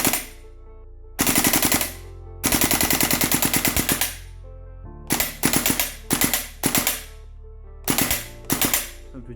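A WE SCAR-H gas blowback airsoft rifle fires loud full-auto bursts up close, long rattling strings broken by pauses, then shorter clipped bursts of a few rapid shots each.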